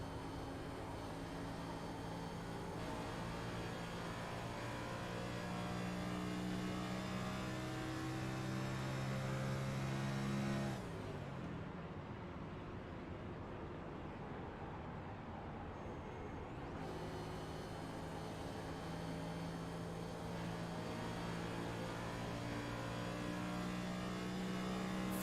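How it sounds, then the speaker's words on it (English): Race car engines in the iRacing sim at Homestead-Miami Speedway hold a steady, loud harmonic drone throughout, pitch shifting as the throttle changes, with a brief dip in the middle before the full roar returns. "Prince in the throttle all the way through the corner"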